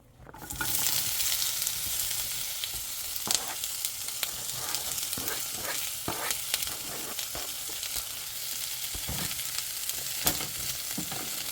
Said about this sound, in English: we're going to cook down the vegetables and fry the egg, and then we're going to add the rice.